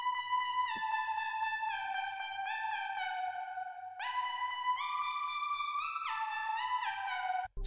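Bright synth lead from an FL Studio preset playing a dark trap-style melody, sustained notes stepping down in pitch, then jumping higher and descending again, clean and alone with a faint low pulsing beat underneath.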